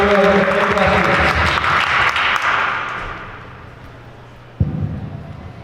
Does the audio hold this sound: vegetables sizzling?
no